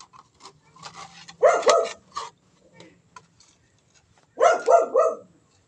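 A dog barks in quick bursts, a cluster of several barks followed by a pause and then another run of three, moderately close.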